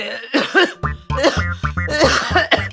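A person coughs several times in quick harsh bursts, close and loud, with throat-clearing rasps between, during an illness with fever and cough.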